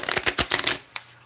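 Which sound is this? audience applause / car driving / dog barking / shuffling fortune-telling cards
shuffling fortune-telling cards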